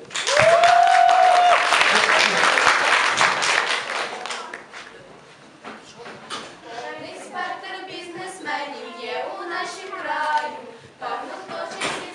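Loud applause at a KVN comedy team performance fills the first few seconds, then fades as people begin talking, with scattered claps continuing under the voices.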